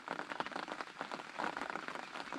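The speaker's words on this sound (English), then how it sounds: "tiny little bit of rain's coming through at the moment" Light rain patters steadily onto a pond's surface and nearby gear during an early July tench-fishing session, a soft continuous hiss of fine drops with no talking.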